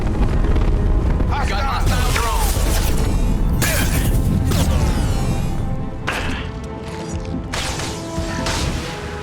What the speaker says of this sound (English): Those are some big explosions from those guys.